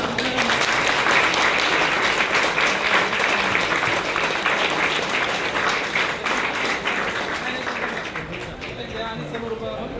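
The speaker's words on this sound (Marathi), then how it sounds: "जोरदार टाळ्या झाल्या पाहिजे." Sustained applause from an audience at a charitable trust event honouring sanitation workers, loud and dense throughout, easing slightly toward the end.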